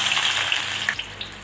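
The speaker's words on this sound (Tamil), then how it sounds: "கடுகு வெடித்ததும் வெங்காயம்," Onion sizzles in hot oil in a pan where mustard seeds have just crackled, for a spicy potato fry. The sound is a loud, continuous frying hiss with a few small pops and no talking.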